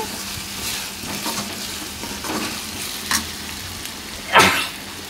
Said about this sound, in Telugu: అల్లం వెల్లుల్లి పచ్చివాసన పోయే వరకు బాగా ఫ్రై చేసుకోవాలి.